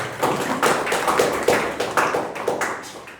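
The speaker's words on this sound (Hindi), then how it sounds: "ताली क्यों नहीं बजाते?" An audience applauds in a classroom-style interactive session, a steady wash of many hands clapping with rhythmic swells, fairly close and loud, with no talking over it.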